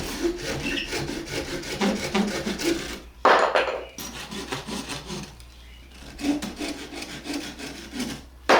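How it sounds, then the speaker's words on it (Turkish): Hand saw cutting through wooden branches for a bird cage, a steady stroke-by-stroke rasping close by that pauses briefly around the middle and then resumes its rhythmic back-and-forth. "Şimdi bir bıçkıyla bu çizdiğim yerleri keseceğim."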